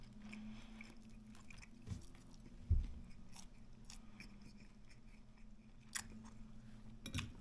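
Quiet close-up chewing of garlic and honey turkey tenderloin with a crunchy outer skin, with soft crunches and mouth sounds at irregular intervals.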